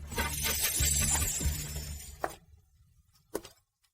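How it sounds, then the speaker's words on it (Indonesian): A magic spell shattering in a glass-breaking sound effect, a loud burst of crashing, tinkling shards that fades over about two seconds, followed by a couple of sharp, isolated clinks of falling pieces. "Ada apa ini? Mantraku bisa hancur begini."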